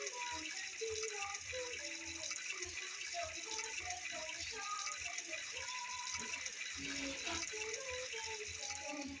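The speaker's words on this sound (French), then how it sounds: "Je crois que je prends ma petite douche." Shower water runs steadily in the Roblox game Brookhaven, a soft continuous spray and splash heard faintly and close, while gentle music plays along with it.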